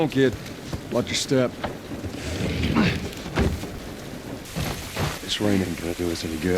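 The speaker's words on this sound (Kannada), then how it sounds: "ಆದ್ರೂ ಸಿಕ್ಕಾಬಟ್ಟೆ ಮಳೆ ಗುರು ಇಲ್ಲಿ" Heavy rain pours steadily in the video game The Last of Us, a dense hiss with distant rumbling, while someone talks loudly over it for most of the stretch.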